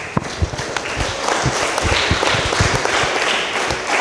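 An audience at a parish patronage gathering claps in a loud burst of scattered, overlapping handclaps that carries on steadily for several seconds.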